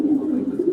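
Male racing pigeons coo in a loft in Quetta, a steady, continuous low warbling close to the microphone that lasts the whole moment without pause.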